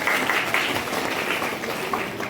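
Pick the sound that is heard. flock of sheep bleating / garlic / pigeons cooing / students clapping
students clapping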